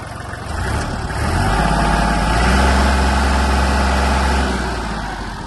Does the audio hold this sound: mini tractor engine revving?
yes